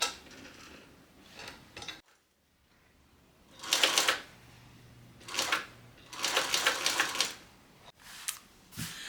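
Sewing machine stitching over quilted bucket bag fabric, in several short bursts separated by brief pauses, close and fairly loud with no talking.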